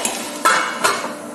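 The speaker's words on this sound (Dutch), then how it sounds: "voordat we de deksel erop doen" A metal lid goes onto a pot of about 400 grams of Thai-style mussels, giving a few sharp clanks and a ringing rattle, close and loud.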